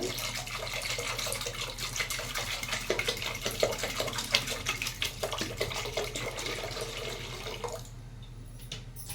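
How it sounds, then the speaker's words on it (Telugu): Water pours steadily into a pressure cooker holding lentils for Andhra sambar, a continuous close splashing stream for about eight seconds before it stops. "వాటర్ వేసుకుంటున్నాను"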